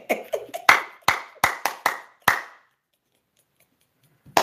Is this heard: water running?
no